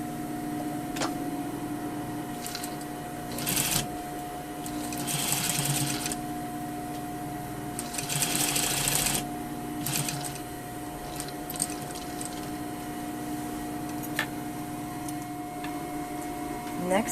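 A sewing machine understitching the lining of a handkerchief pocket to its seam allowance, running with a steady mechanical hum in several bursts separated by pauses and small handling clicks, and no voice over it.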